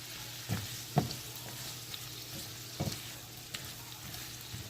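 Squash pieces fry in vegetable oil, giving a steady soft sizzle with a few sharper crackles and pops scattered through, close and fairly quiet with no talking.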